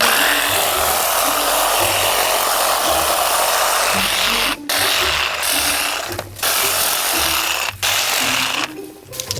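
A Craftsman V20 cordless reciprocating saw cuts through thick palm tree branches, a loud, steady buzzing rasp that breaks off briefly three times before resuming.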